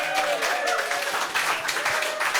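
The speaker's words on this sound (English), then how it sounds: "I think they deserve a round of applause" An audience at an evening of music and song in a castle applauds the musicians, a continuous wash of clapping heard at moderate distance with faint voices underneath.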